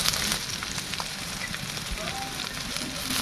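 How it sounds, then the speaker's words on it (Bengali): Cabbage tipped into a pan of lightly fried capsicum and onion for egg chowmein, giving a steady, close, crackling sizzle that continues throughout with no voices. "ক্যাপসিকাম আর পেঁয়াজটা হালকা ভাজা হয়ে গেছে, আমি এবারে বাঁধাকপিটা দিয়ে দেবো"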